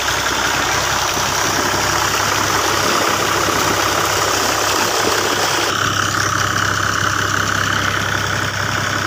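A new tractor's engine runs continuously at a steady, loud, rumbling idle close by, with a constant mechanical drone and no talk.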